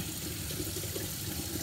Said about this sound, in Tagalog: maglagay tayo ng tubig ng warm sa gilid